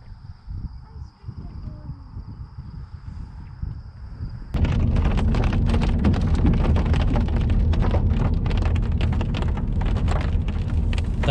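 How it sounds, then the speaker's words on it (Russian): Large raindrops fall outdoors in the meadows of Badlands National Park, South Dakota. Sparse pattering gives way abruptly to a loud, dense, steady drumming close by. "Крупные капли падают на нас."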